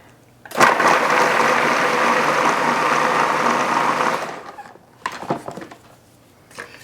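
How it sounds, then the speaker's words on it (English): A food processor runs loud and steady for about four seconds, mincing garlic into a puree, then cuts off, followed by a few short clattering knocks. "No, this is just the food processor."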